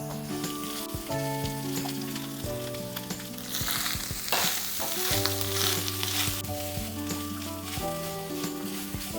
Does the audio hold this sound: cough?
no